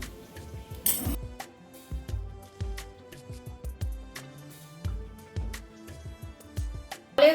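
A spoon stirs cornflour into water in a bowl with a string of quick, bright clinks and taps against the sides, uneven bursts separated by short quiet gaps.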